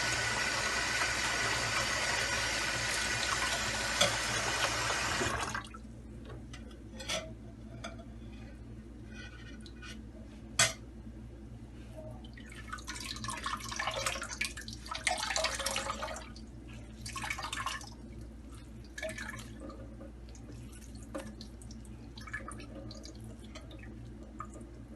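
Water draining and dripping from strained cheese for ras malai: a loud continuous pour for the first five seconds, then scattered drips and splashes, some close and sharp, over a low hum.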